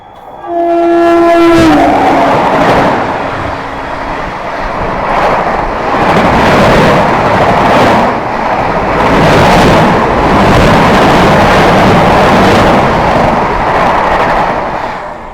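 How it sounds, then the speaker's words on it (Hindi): The Bathinda–Balurghat Farakka Express thunders past up close, opening with a long loud horn blast before a sustained, roaring rush of wheels and wagons that rises and falls steadily with no voices. "सामने से अपने से क्रॉस होने आती हुई बठिंडा बालूरघाट फरक्का एक्सप्रेस"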